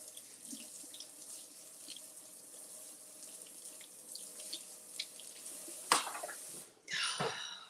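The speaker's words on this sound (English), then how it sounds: "Let me rinse this off well." A tap runs steadily into a kitchen sink while something is rinsed under the stream, a soft continuous splashing hiss. Near the end a sharp clatter cuts in, then a brief gushing surge.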